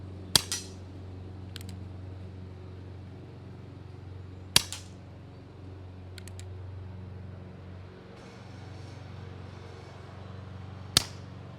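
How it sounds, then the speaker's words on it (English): A CO2 air pistol fires at a plate target 15 yards away outdoors, giving three sharp, isolated cracks several seconds apart with faint ticks in between, over a steady low background hum. "15 yards with a CO2 pistol definitely works."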